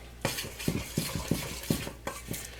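Flour being mixed into bread dough for focaccia in a big bowl, a series of rhythmic scraping stirs and soft thuds of a utensil against the bowl, close and alone.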